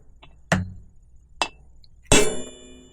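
A metal punch is struck with a hammer to dent a metal part and mark a drill spot for a rivnut install: two light taps, then a harder ringing strike with a metallic decay, close and loud.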